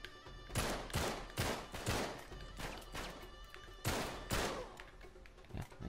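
Gunfire in the video game Uncharted 3: Drake's Deception: several loud, close bursts of shots in an irregular rhythm.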